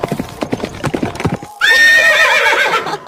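Horse hooves clip-clop in a quick steady rhythm at a horse farm, then a loud, long whinny rings out close by and dominates the second half.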